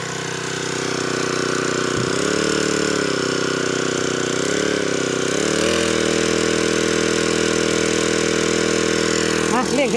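A grass trimmer's small two-stroke engine drives a water pump, droning steadily and loudly while its pitch rises and falls with repeated revving, as someone talks over it.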